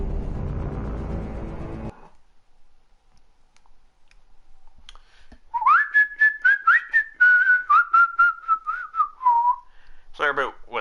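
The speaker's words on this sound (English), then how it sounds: "Sorry about whistling so much goblins" A person whistles a wavering, sliding tune alone in the middle stretch while playing Mass Effect 2 Legendary Edition, following a burst of louder game noise at the start, with a few clicks near the end.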